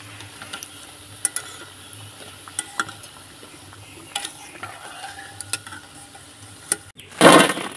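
Jackfruit pakoras frying in hot oil, a soft steady sizzle with scattered clinks and stirring taps throughout, then a sudden loud burst of crackling near the end as more batter hits the oil.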